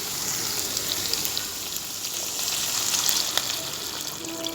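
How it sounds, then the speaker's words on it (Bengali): Liquid gravy hitting fried spice masala in a pan, a steady broad sizzle and bubbling hiss that holds at an even level throughout, with no talk. "এবারে আমি ঝোল দিয়ে দেব।"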